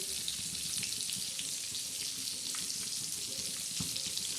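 Fish frying in hot oil in a home kitchen, a steady crackling sizzle at low level with occasional small pops and stirring sounds, alone without talk.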